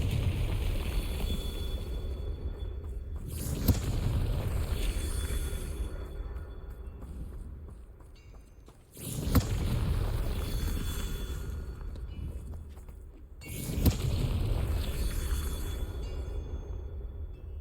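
Confringo blasting spell explosions in the video game Hogwarts Legacy: three sharp bursts spaced several seconds apart, each followed by a rumbling roar over continuous loud background game noise.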